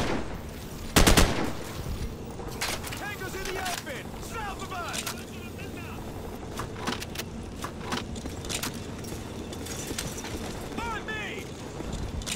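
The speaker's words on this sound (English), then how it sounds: "We're taking heavy fire on our position north of the overpass!" Heavy gunfire in Call of Duty 4: Modern Warfare at a bridge and overpass, with a sharp loud burst early, then ongoing rattling shots and clanking under shouted voices.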